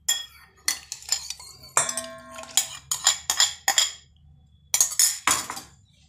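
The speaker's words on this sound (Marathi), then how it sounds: "आता हे छान मिक्स करून घ्यायचं।" A spoon clinks and taps against a bowl while thick yogurt and gram flour batter for kadhi is mixed. The bright metallic clinks come in irregular clusters with short gaps, close and clear, and there is no speech.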